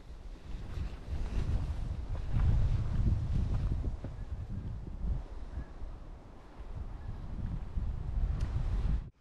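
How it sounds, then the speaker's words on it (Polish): Wind gusting across a winter campsite near a lake, a steady low roar buffeting the microphone and swelling and easing over several seconds, with no voices. "Tylko trochę wieje."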